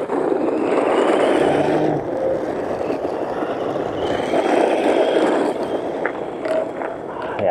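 HBX all-wheel-drive RC car driving, a steady buzzing electric motor whine with fluctuating pitch as it turns and runs continuously close by.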